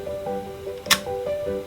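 Nimslo 3D camera shutter firing once at a fixed 1/60 second, a single sharp mechanical click standing out from a steady tonal room hum.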